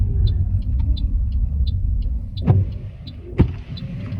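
An automatic car pulling over at the roadside on a hill during a driving test route, with a low engine rumble inside the cabin, a steady ticking indicator, and a couple of soft thumps.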